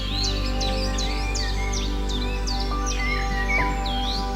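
Several wild birds sing in a natural setting, a steady chorus of bright chirps, rising whistles and short trills layered over one another close by, with no voices.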